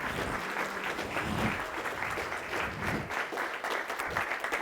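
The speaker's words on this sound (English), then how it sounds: "give yourself a round of applause" A room full of people applauds after being invited to stand and clap for reaching a goal at a business masterclass, a loud, dense, steady wash of clapping lasting several seconds with a few whoops.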